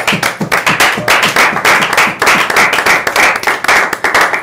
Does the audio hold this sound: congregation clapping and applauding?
yes